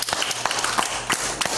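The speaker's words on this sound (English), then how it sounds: "Give the Lord a hand clap tonight." A church congregation at a Wednesday evening service claps their hands in praise, sharp distinct claps that are loud and close and come in a loose, repeating rhythm.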